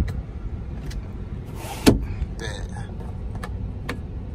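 A car's electric sunroof motor runs for a moment inside the cabin, a soft mechanical whir with a brief clunk as it moves, heard over low engine idle and cabin hum.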